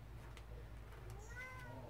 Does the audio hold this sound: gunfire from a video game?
no